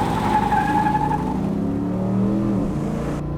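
A restored and modified 1954 Chevy Thriftmaster pickup launches hard with its tires spinning, the engine howling steadily while a brief tire squeal rises and fades over about three seconds, loud and close, with no talk.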